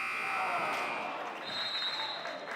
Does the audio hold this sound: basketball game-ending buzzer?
yes